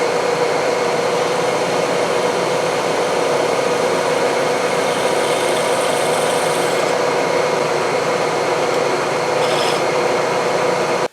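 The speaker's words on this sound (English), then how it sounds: "I've just got to drill the hole out for the shaft" A drill press or mill bores a 5/16 inch hole for a shaft in a replacement Shakeomatic basket part, giving a loud, steady motor whine that runs unbroken for the full stretch with no talking.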